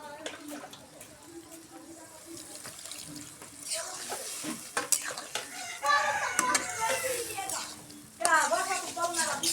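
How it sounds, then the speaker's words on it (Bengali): Pigeon meat being stirred with spices in a pan, with scraping and a low sizzle, under background talk and some running water. "মশলার সাথে মাংসটা আমি কষে নিচ্ছি"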